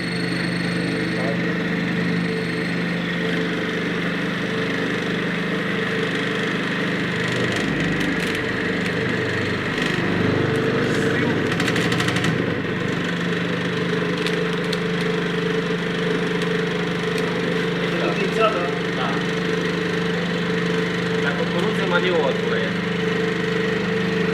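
A grain sifting machine running while sieving corn and wheat, a steady loud mechanical hum and rattle with an engine-like drone throughout, brief louder clatter midway.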